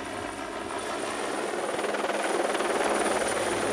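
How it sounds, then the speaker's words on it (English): A police helicopter carrying an observer and pilot over London makes a loud, steady rotor and engine roar that holds unbroken throughout, with the rhythmic blade beat growing slightly stronger toward the end. "PC Bonner will take the front seat and Captain Paul Darney will be the pilot"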